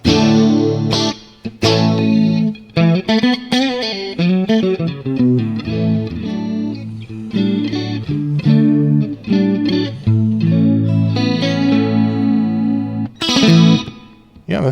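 Electric guitar played through a Flamma FG200 multi-effects unit with the amp gain turned up, distorted chords and riffs with chorus shimmer, loud and continuous with short breaks between phrases and no talking.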